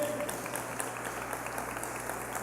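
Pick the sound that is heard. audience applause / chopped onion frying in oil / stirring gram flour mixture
audience applause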